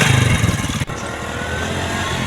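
A motorcycle engine idles and putters loudly up close, with a brief dip before settling into a steady running drone.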